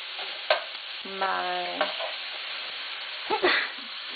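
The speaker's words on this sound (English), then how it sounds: "I am browning up the meat" Ground meat browning in a pan, a low background sizzle with a few sharp scrapes and knocks of a utensil, plus a short tonal hum like a cough or throat sound in the middle.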